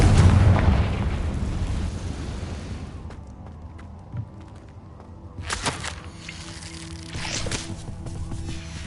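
A Confringo spell explodes in the video game Hogwarts Legacy, a broad boom up front that fades into a rumbling tail, followed by a few scattered later bursts and crackles.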